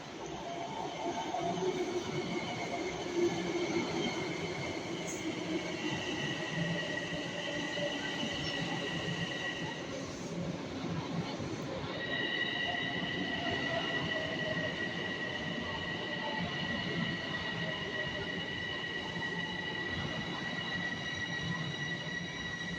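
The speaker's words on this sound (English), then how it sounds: "I am on Long Island Railroad right now" Riding aboard a Long Island Rail Road train, a steady rumble of the car fills the interior with sustained high wheel squeals and tonal whines, loud and continuous throughout, no talking.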